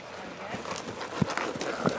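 Hooves of a horse in a riding lesson moving through a trot-to-canter transition, a few soft rhythmic thuds on an arena surface under a background of faint talking.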